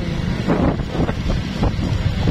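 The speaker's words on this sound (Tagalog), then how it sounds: "Dito ang hangin." Strong wind buffeting the microphone outdoors, loud uneven gusts thumping and roaring in irregular pulses, with no voices.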